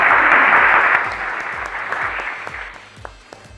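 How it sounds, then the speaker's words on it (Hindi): Audience applause on a televised Sindhi game show, a dense burst of clapping that fades gradually over a steady, rhythmic musical beat. "बहुत सारी तालियां"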